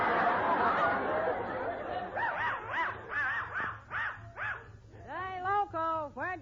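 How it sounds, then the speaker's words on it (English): A small funny-looking dog yips and barks in a quick series of short, bright calls rising out of busy chatter, in an old-time radio comedy scene. "where'd you get that funny-looking dog?"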